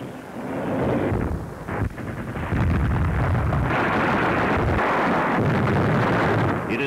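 British artillery shells German positions in a WWII newsreel, with loud, continuous low rumbling and booming blasts that build after a brief dip, rough and wind-like across the stretch.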